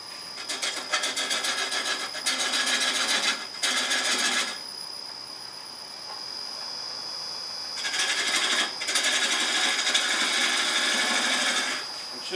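Spindle gouge cutting wood spinning on a lathe, a bright steady hissing shave in long passes that stop and restart, with a constant high whine from the machine between cuts.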